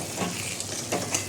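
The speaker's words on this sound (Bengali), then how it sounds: "একটু নেড়ে দেবো।" Chicken with chopped coriander is stirred in a pan, a close, soft scraping and shuffling over a steady low sizzle, with a couple of brief clinks.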